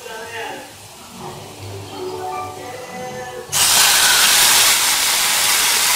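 A ladle of cooked beans with extra broth is poured into a pan of browned garlic, setting off a sudden loud, steady sizzle. A person talks just before the pour.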